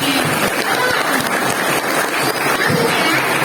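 High-school students clap along to a song at a character-building session. The dense, continuous clapping is loud and crowd-like and runs unbroken for several seconds.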